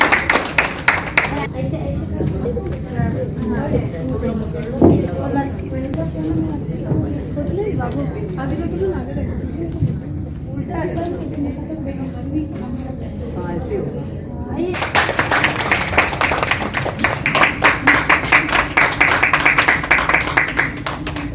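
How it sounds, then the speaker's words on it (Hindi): An audience at a Sawan festival event breaks into dense, lively clapping that runs steadily for several seconds near the end, following a stretch of speech and music in the room. "तो आप लोग ताली बजाइए इसके लिए"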